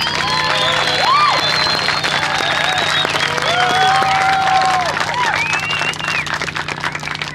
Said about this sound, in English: let's give a big round of applause to all that list.